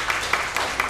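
A church congregation at a Sunday service for electing elders and deacons claps briefly, with a few soft, evenly spaced hand claps over a steady room hum.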